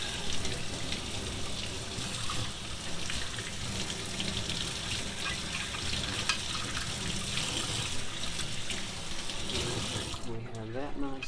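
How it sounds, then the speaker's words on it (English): Hot water runs steadily from a tap while maple syrup filtering equipment is rinsed clean, a continuous splashing rush that cuts off abruptly near the end. "Great thing about syrup is all that you need to clean up is hot water."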